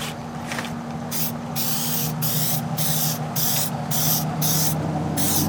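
Meguiar's headlight restoration coating sprayed from a can onto a car headlight in a series of short hissing bursts with brief gaps between them, close and fairly loud, no talking.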